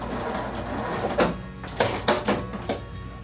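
Home sewing machine stitching a few quick stitches forward and back on a fabric toilet paper cover, short bursts of rapid mechanical clatter separated by brief pauses, close by.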